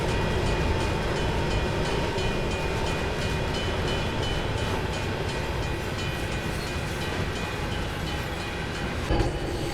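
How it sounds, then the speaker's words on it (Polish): A GP60M diesel locomotive in the Train Sim World 6 game rumbles steadily and loudly, its engine drone continuous with faint rail clatter, on a Cajon Pass descent; no one speaks. "tak lubię te dźwięki właśnie dieselowych lokomotyw"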